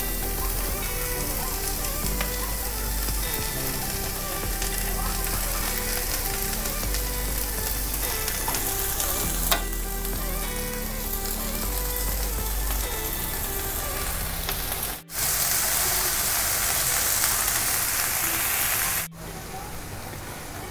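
Lettuce leaves and chopped carrot fry in a hot pan with a steady, dense sizzle that runs continuously, briefly dropping out twice near the end.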